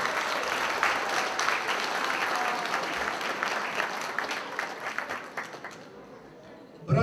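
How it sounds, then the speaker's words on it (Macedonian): Audience applause at the Gotse Delchev banquet held by United Macedonians in Toronto, a dense, steady wash of many hands clapping that carries on for several seconds, fades slightly toward the end, then swells again briefly. "Ве замолувам еден аплауз"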